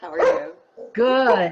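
A pet dog barks twice, close and loud, during an online webinar, with a person speaking briefly around and between the barks.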